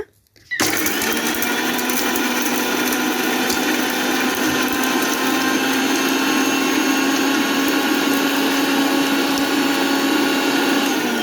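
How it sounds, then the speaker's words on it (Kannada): Kitchen mixer grinder grinding cardamom, cloves and cinnamon, starting abruptly, then a loud, steady high-pitched motor whine with rattling spices that holds for about ten seconds without talk. "ಇವಿಷ್ಟನ್ನು ಹಾಕ್ಕೊಂಡು ರುಬ್ಕೊಳ್ತಾ ಇದ್ದೀನಿ ಇವಾಗ"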